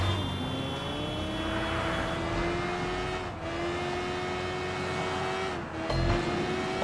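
Steady motorbike engine drone with a rising pitch held throughout, from a wheelie ridden in the video game Sleeping Dogs, loud and continuous with brief dips, no talk.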